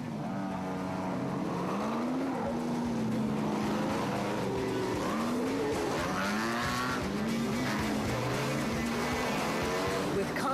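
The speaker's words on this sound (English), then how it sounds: "with a gaggle of cars setting off nose to tail." Off-road race cars set off nose to tail in a rally near a casino complex, several engines revving and rising in pitch as they pull away, with talk faintly underneath.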